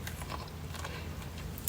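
Close, crisp crunching of someone biting into pomegranate seeds, a steady crackly chew across the whole moment that ends in a sharper, louder crunch.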